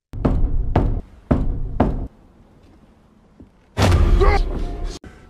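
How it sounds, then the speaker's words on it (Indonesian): Four loud, evenly spaced knocks on a ship's hull or door, close and sharp, with a pause, then a burst of noisy movement and a final thud. "Ia memberi sebuah isyarat ketukan kapal, namun tidak ada yang memberi balasan."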